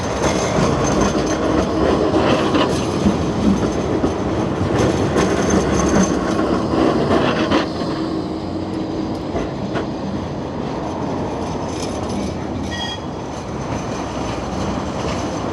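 A Blackpool tram sets off along the tramway, its rolling rumble and rattle heard close and loud, with wheel squeals and clicks as it moves away and the noise eases.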